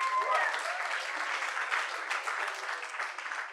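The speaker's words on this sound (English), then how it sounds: "We can give him a better round of applause than that" An audience at a startup growth panel event claps steadily, a dense, fairly loud burst of applause that holds for a few seconds with no talk over it.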